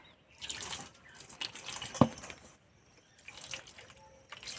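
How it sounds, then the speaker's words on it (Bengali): Ripe mangoes are rinsed under a running tap, with water splashing and trickling in uneven bursts and one sharp knock partway through, quiet gaps between. "আমগুলো পরিষ্কার করে ধুয়ে নেবো"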